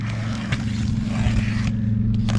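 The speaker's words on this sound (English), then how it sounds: "there's a guy riding down the road on a Harley" A Harley-Davidson motorcycle passes on the road outside, its low, steady engine rumble holding for a couple of seconds at moderate distance, with light scraping nearby.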